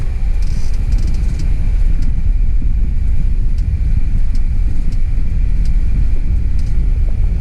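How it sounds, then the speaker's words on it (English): Car driving through a park on a road trip from Laguna Blanca to Cerro Cora, heard from inside as a loud, continuous low road rumble with wind buffeting and occasional faint rattles, no talking. "Well, I'm just driving through the park now."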